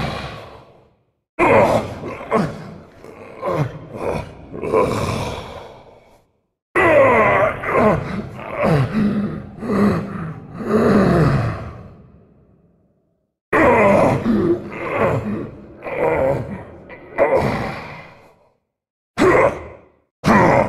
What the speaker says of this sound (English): Do you hear the ghouls?